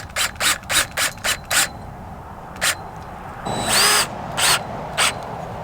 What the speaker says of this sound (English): I'm going to use one of their tech screws or self-tapping screws, and I'm going to come right through the strap into the bow